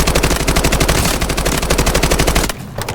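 Rapid automatic gunfire in the video game Delta Force, a loud, steady stream of closely spaced shots that cuts off abruptly near the end and leaves a quieter tail.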